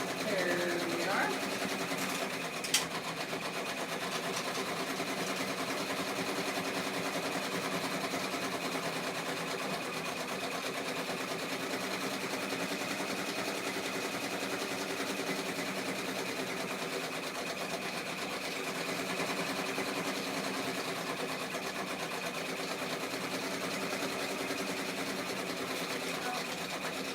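An embroidery machine stitches out a small design in a steady, continuous mechanical whir that holds at an even level throughout, with a brief click near the start and a voice speaking over it at times.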